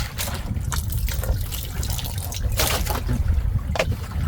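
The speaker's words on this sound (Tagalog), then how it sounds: "Bigyan natin ng konting tubig." A small amount of water poured into a skillet, giving a continuous close trickle with splashy bursts rising in the second half, steady and fairly loud with no one speaking.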